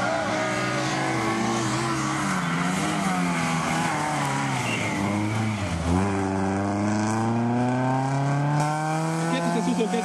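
Honda Civic rally car at Mecsek Rallye 2014 racing past, engine screaming at high revs near and loud, pitch sweeping through gear changes with a brief dip as it passes, sustained throughout.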